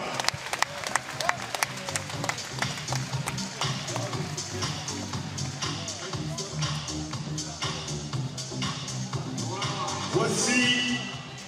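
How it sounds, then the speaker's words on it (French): Applause from a boxing crowd in Belgium carries under an announcer speaking French, with scattered clapping, crowd noise and a brief swell near the end. "On applaudit bien fort notre ami Baha."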